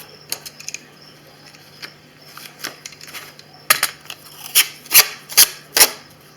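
Clear adhesive tape is pulled and stuck down while cut pieces are joined to build a craft storage unit for scrapbooking dies. Quiet handling noises lead into several loud, sharp ripping strips in quick succession near the end.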